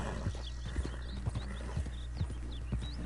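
Horse hooves clip-clopping in the video game Red Dead Redemption 2, a steady, even trotting rhythm of soft thuds over a low background rumble with faint bird-like chirps, moderately quiet and close.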